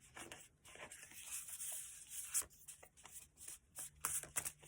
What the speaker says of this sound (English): that was my sloppy shuffling, getting them back into order